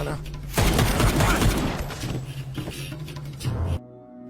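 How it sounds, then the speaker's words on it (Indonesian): Gunfire in a gangster film scene, one long dense burst of rapid shots followed by sporadic bursts, loud and close before an abrupt cut to near silence. "Suruli memberondong peluru kepada John hingga tewas"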